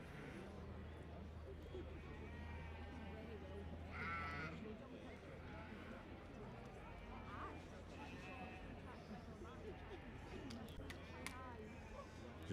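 Dutch Spotted sheep at an agricultural show, a few faint bleats rising now and then over a busy, murmuring showground with distant voices.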